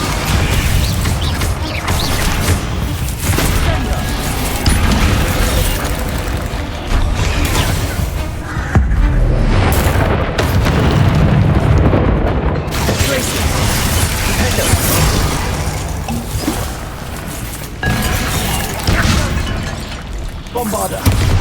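Repeated Bombarda blasting spells in Hogwarts Legacy combat, a long stretch of crashing, shattering explosions and booming impacts layered over constant game noise, with game voices occasionally mixed in.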